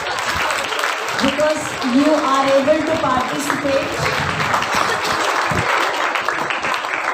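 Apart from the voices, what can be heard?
applause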